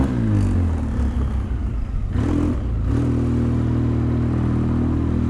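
A Polaris Sportsman 700 ATV engine revving with four-wheel drive engaged, loud and close, a steady throbbing drone that dips briefly, clatters, then climbs back to a sustained higher rev.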